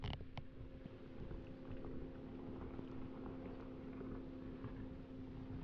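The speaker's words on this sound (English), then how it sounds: "Some boat passing by." A boat passes by on open water in a quiet natural setting, its low steady engine drone running continuously at a moderate distance with light wind noise over the microphone.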